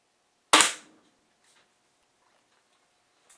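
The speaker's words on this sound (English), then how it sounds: "The crossbow is definitely noisier than the compound bow, the regular vertical bow." A single sharp snap of a crossbow shot, loud and abrupt with a quick fading twang, followed by near silence and a few faint ticks.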